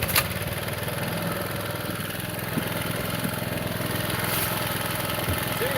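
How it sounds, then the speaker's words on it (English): A John Deere lawn mower cuts grass with a steady, continuous engine drone that holds an even pitch and loudness throughout, close by and alone. "I forgot how good the Deere cuts. This thing cuts so clean."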